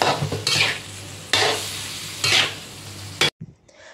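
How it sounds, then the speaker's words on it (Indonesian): Tofu and clams stir-fried in a pan with soy sauce, three loud scraping sizzle bursts as a spatula tosses the food, close up, followed by a sudden cut to quiet. "Lalu tahunya masuk dan diosreng-osreng lagi."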